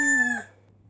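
A cartoon rooster crows a single cock-a-doodle-doo, bright and close, ending abruptly under a steady low hum.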